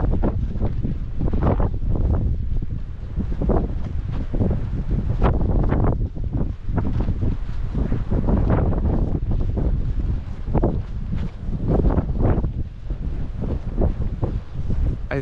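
Strong wind buffeting a microphone on a coastal walk from Wadebridge toward Newquay in Cornwall, loud rumbling gusts that surge and ease continuously with no voices.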